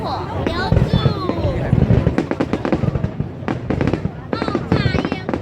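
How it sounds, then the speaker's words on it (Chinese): Willow-style fireworks bursting over the Dadaocheng riverside show in Taipei, a rapid run of sharp crackling pops at varied loudness, with spectators talking and exclaiming throughout. "柳树烟火，柳树。"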